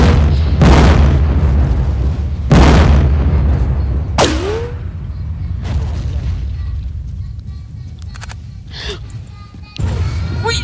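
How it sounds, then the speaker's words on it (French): Heavy explosions in the World War II shooter Battlefield 1942, several deep booms spaced a couple of seconds apart, loud and close, with lighter gunfire and a faint voice between them. "j'ai balancé ma grenade je crois"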